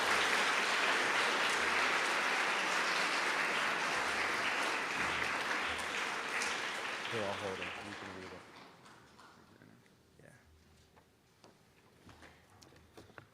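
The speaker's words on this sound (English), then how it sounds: "We can give a round of applause for Jason." Audience applause at a middle school awards assembly for a presenter named Jason Smith, loud dense clapping filling the room for about eight seconds, then fading into quieter room noise with scattered claps.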